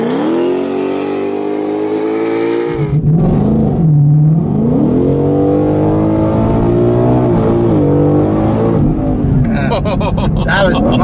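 Turbocharged AWD Ford Explorer launching on launch control with revs held low near 2,200 rpm; a steady, loud engine drone jumps in pitch and surges as the SUV takes off, staying close and strong throughout.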